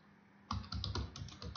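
Keys clack on a computer keyboard as an SQL query is typed, a quick uneven run of close, fairly quiet keystrokes after a brief pause, with no voices.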